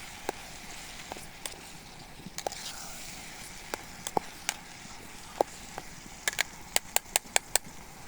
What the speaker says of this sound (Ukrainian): А смажується.